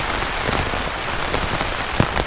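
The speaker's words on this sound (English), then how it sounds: "Now I get to sit back and enjoy the rain." Steady, dense rain pelts a tent during a mountain thunderstorm in the Upper Hilton Lakes Basin, a continuous close hiss with scattered sharper drop hits and no voices.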